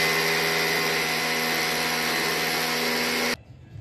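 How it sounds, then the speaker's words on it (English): A Hilti or Makita hammer drill bores into a concrete floor, a loud, steady grinding whine that runs continuously for over three seconds, then cuts off abruptly, leaving only faint room noise. "Now I'm gonna use this Hilti drill or Makita drill to make holes in the floor."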